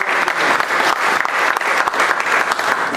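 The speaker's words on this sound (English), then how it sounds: "I'm just going to go ahead and ask for the applause right now." Steady, dense applause fills the room from an audience at the Cypher Awards event, a continuous wash of many hands clapping at close range for the whole stretch.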